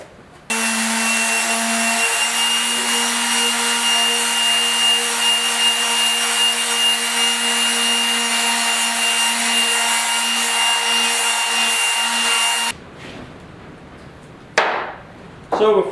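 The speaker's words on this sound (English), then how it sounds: "I'm going to use the palm sander." A palm sander whines and buzzes steadily for about twelve seconds, loud and close, sanding small parts of a 1974 Yamaha RS100 motorcycle, then cuts off, followed by a few brief scraping sounds.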